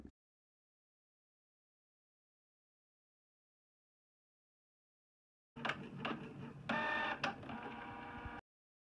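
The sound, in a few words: printer printing a sticker sheet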